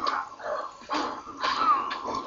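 A dog in the Fable video game gives a few short barks and yips, close and clear, with brief pauses between them.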